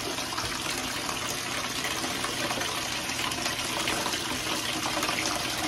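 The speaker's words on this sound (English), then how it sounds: "Just turn on the hot water" Hot water pours steadily from a bathtub faucet, a loud continuous broadband rush of running water that holds constant throughout with no voices.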